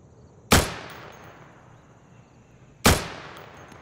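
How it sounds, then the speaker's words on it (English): Two sharp, loud gunshots crack out a couple of seconds apart in the Insurgency video game, each leaving a long echoing tail, with no talking over them. "somebody shooting at me"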